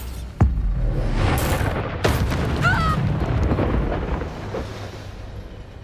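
The Bombarda blasting spell from Hogwarts Legacy detonates with a sharp crack followed by a deep rumbling boom that rolls on through the rest of the clip, alongside layered magical effects and a brief whooshing flourish.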